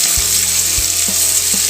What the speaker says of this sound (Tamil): டைரெக்டாகவே ஆனியன் சேர்த்து நல்லா ஃப்ரை பண்ணிக்கிட்டு இருக்கேன்